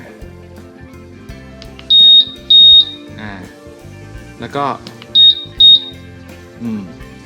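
Short, shrill electronic beeps from a Honda Forza 350 scooter's anti-theft alarm, in paired bursts with a pause between pairs, loud and close, while someone speaks briefly in between.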